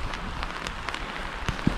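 Rain falling in the Bosnian mountains, a soft steady patter of drops on surfaces with a few sharper close taps, heard alone at low level.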